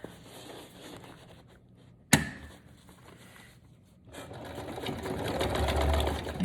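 A sewing machine stitches a fabric junk journal cover, running in close, steady whirring bursts with one sharp click near the middle and a louder, denser run of stitching at the end.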